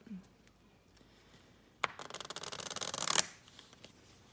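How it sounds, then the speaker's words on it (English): A quick riffle shuffle of playing cards, a dense rapid flutter of card edges lasting about a second and a half, close and fairly loud after near silence. "we'll even do a quick riffle shuffle"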